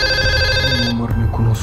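Phone ringtone of an incoming call, a bright tonal electronic melody chiming loudly and close, with excited speech breaking in partway through.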